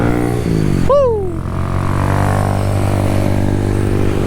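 Honda Grom mini bike with a stock exhaust gives a sharp rev that swoops up and drops away about a second in, then settles into a steady, buzzy engine drone close by, with no voices.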